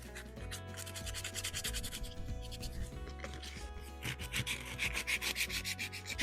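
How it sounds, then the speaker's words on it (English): Hand sanding on a stand-up paddleboard during a leak repair, a steady close scratchy rubbing that runs throughout, growing louder and more rhythmic with quick back-and-forth strokes near the end. "Right, carry on with the sanding."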